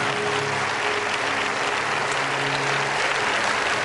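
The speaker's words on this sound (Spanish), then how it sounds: "Fuertes aplausos a Jesús." A church congregation gives loud, sustained applause during a Catholic service. The clapping is dense and steady, with a faint low hum beneath it and no speech.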